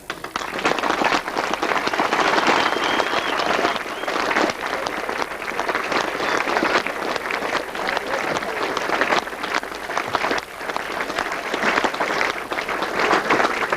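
Sustained crowd applause at the Edwinstowe Millennium Pageant in Sherwood Forest, a steady broad wash of clapping lasting throughout without pause.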